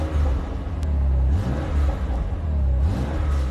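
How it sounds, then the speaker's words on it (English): A BMW M2 engine fires up and settles into a deep, steady exhaust rumble with two rising revs, loud and close, with no talking over it. "Now let's just start it up. You hear that fruitier exhaust as well."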